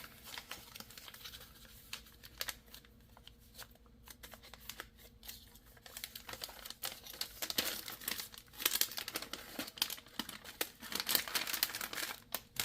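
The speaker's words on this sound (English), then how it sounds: "fold these corners over." An MRE ration bag crinkles as its corners are folded over, a close, quiet series of irregular plastic rustles and crackles that grow busier toward the end.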